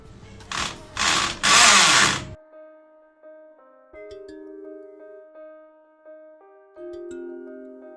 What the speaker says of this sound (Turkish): burayı delmem gerekiyor. Şimdi delelim.